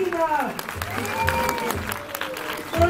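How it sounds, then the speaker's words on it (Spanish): Audience at a Mexican theater show at Six Flags México applauding a spider act, a continuous burst of clapping under a loud announcer's voice. "¡Aplausos fuertes para la araña!"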